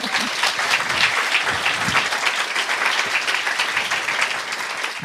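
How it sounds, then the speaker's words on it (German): An audience at a live talk-show style stage event applauds, dense steady clapping from many hands lasting several seconds. "Applaus."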